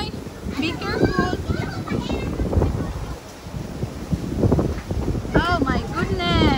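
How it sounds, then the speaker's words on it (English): Strong gusting wind buffets the microphone at a beach, a steady roar through the whole stretch, while children and adults talk and call out over it. "So windy."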